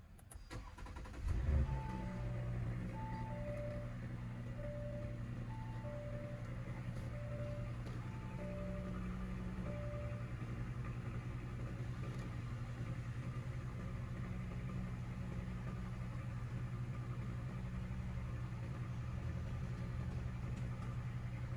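A Cenos-Mirage SUV engine fires up once and settles into a steady, loud idle that continues without a break. No talking is heard over it.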